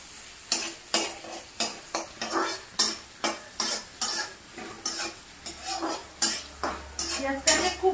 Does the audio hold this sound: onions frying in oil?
yes